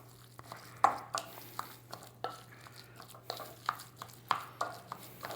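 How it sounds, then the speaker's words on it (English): Gluten-free breadcrumbs made with rice flour being stirred and tossed in a bowl, quiet irregular scraping and tapping strokes against the dish, faint and close, with a low steady hum underneath. "we're going to stir that up"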